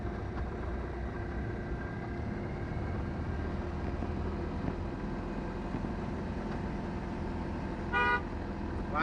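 Traffic hums past steadily on a road near Yercaud, a continuous low engine rumble, with a short honk of a vehicle horn near the end.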